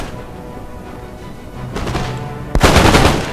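Musket volleys crack in an Empire: Total War battle, with scattered distant shots building into a dense, loud burst of massed gunfire toward the end.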